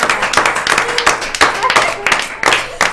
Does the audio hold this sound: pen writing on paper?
no